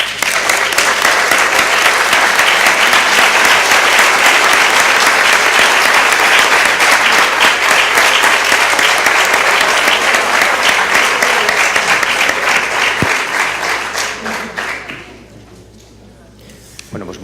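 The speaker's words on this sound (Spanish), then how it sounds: "Este aplauso lo dice todo" A conference audience applauds after a round-table panel on new platforms, loud, dense, sustained clapping filling the room for about fifteen seconds before fading out.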